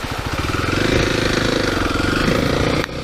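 A Kawasaki KLX300 dual sport motorcycle on a trail ride, its single-cylinder engine throbbing in a rapid, steady pulse close to the microphone, then cutting sharply lower just before the end.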